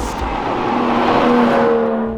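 An Aston Martin DBS Volante accelerating on the move, its engine note rising in pitch as it pulls strongly, loud and close before tailing off slightly.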